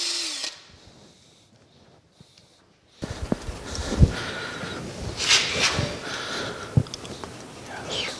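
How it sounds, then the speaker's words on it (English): A power drill whines in bursts after a quiet start, biting into metal on a metal planer with uneven grinding and clatter, close up. "we will drill us a second hole right there"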